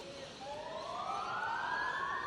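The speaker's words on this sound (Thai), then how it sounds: "อ้าวรถหวอมา" A police car siren passes on a road in Western Australia between Perth and Esperance, its wail sweeping steadily upward. It is fairly faint and distant, over a low traffic hum.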